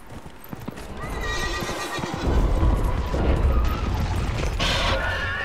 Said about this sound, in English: Horse just took the fuck off.